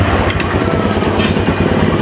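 Honda Vario 125 scooter engine running after routine service, with its idle-stop system not working normally; a close, steady low putter with faint higher whine, continuous for a couple of seconds.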